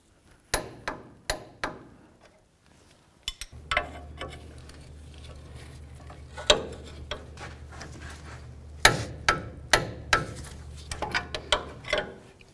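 A torque wrench tightens the sway bar link nut on a 2005-2015 Toyota Tacoma, with sharp metallic clicks coming in quick clusters, some spaced apart, against a low steady hum.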